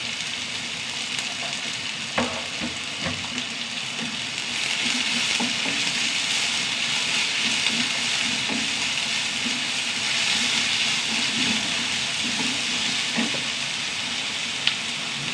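Finely chopped onions fry steadily in hot oil, a continuous bright sizzle with occasional pops and stirring scrapes, close and fairly loud throughout with no talking.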